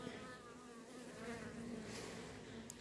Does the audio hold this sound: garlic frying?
no